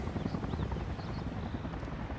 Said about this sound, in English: there is an American helicopter on the way.